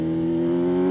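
A Kawasaki ZH2 motorcycle engine holds a loud, steady, close droning roar under hard acceleration in second gear, in one brief burst.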